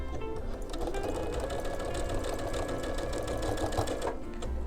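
A sewing machine runs steadily while stitching a quarter-inch seam on a quilt block, making a continuous close, fast mechanical whir and clatter with no pauses.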